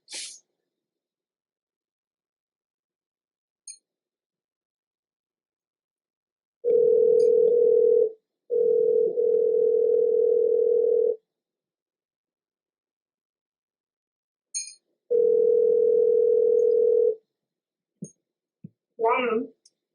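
Telephone dial tone heard during a live radio-style call to a guest, a steady mid-pitched tone in three separate stretches with silence between them, plus a few faint clicks and a brief voice near the end.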